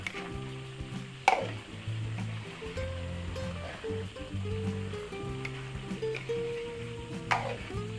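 Tomato sauce with ketchup bubbles and sizzles steadily in a pan, a soft continuous frying hiss with a couple of sharper clatters, while background music plays throughout.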